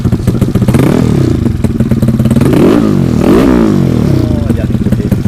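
Racing automatic fuel-injected motorcycle engine revved hard in a workshop, loud and close, with rising and falling revs over a steady throaty idle and some clatter, while people talk over it.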